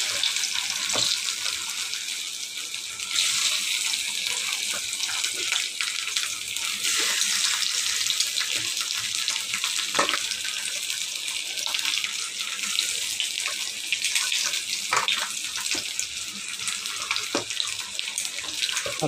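Potatoes drop into hot oil in a pan and fry with a steady, close hiss dotted with small crackles and pops throughout. No speech is heard.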